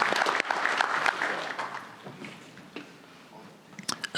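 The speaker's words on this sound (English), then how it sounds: "I just hope that you thank them with a round of applause for everything they've done." Applause from attendees at a board of directors meeting, a dense burst of clapping at the start that thins out and fades over a few seconds, leaving scattered claps near the end.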